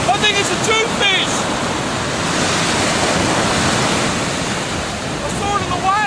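Ocean waves wash steadily onto a sandy beach at a fishing spot, a continuous loud roar of surf with faint voices calling out briefly over it.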